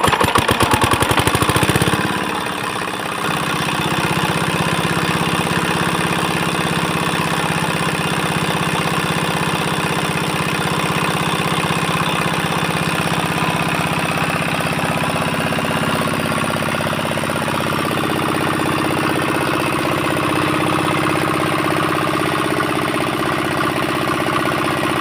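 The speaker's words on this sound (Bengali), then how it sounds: "ইঞ্জিনটা এবার স্টার্ট করবো, সাউন্ডটা একবার শুনুন" A 4-hp Chinese diesel engine runs steadily after a plunger installation, starting with a loud rattling clatter and then settling into a continuous, even thumping idle close by, with no voices.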